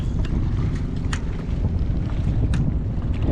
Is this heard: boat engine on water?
yes